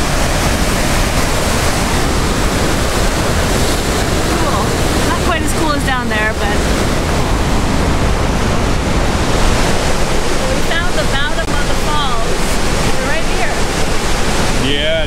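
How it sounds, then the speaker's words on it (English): Fast, churning river rapids just below a dam, a loud and steady roar of rushing water that fills the whole scene with no pause. "And from here the rapids are brutal."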